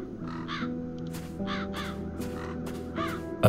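Crows caw repeatedly in the video game The Dark Eye: Chains of Satinav, harsh calls in irregular bursts over a low ambient music bed, moderately near.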